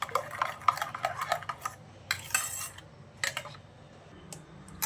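A spoon stirs salt, cumin powder and red chilli powder into tamarind-jaggery pulp in a bowl, giving soft scraping strokes and light clinks in irregular bursts, close and fairly quiet.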